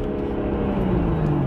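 A turbocharged BMW 1M accelerates hard, its engine a loud, close, rising drone with a steady tone climbing in pitch over a brief stretch, and no voices.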